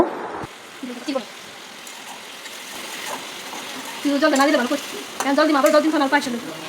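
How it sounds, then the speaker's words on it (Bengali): Fried paneer stirred into a sizzling masala in a pan gives a steady frying hiss with scraping stirs. A person talks throughout, louder in the later part. "সবকটা দেওয়া হয়ে গেছে এখন ভালো করে নেড়ে চেড়ে নেব"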